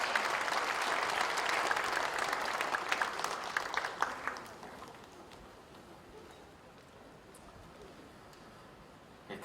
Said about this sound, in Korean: 인사하고 내려갈 때 큰 박수를 드리기 바랍니다.